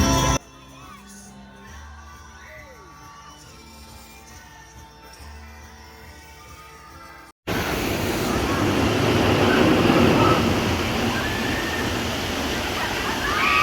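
The log flume ride at Flambards theme park, first a quieter stretch with mixed park sounds, then a sudden loud continuous rush of splashing water with distant crowd noise and children's voices.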